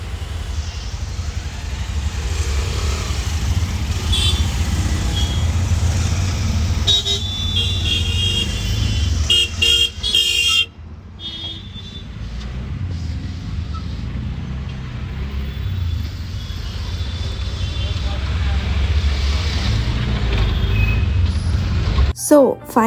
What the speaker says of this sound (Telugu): మళ్ళీ ట్రాఫిక్